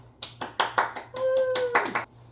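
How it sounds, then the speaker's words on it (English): Applause from an audience welcoming a special guest at an interview, with a handful of scattered claps building into a short burst of clapping, fairly close and with no talking over it. "Can we all give him a round of applause?"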